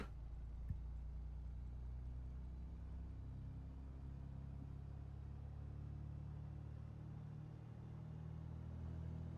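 A small airplane engine idles with a low, steady rumble and faint drone, holding an even pitch throughout with no voices.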